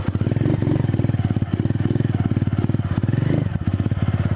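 A motorcycle ridden away from a river on a muddy dirt trail runs close and loud with a rapid, pulsing, slightly uneven engine beat and a little mechanical clatter, with faint voices in the background.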